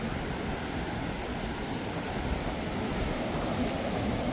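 Sea surf at the shore of Mar Chiquita during a fishing outing, a steady broadband wash of waves with no distinct breaks, mixed with some wind noise on the microphone and no voices.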